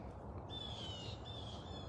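A crow caws a couple of times, drawn-out and harsh, against a low outdoor rumble.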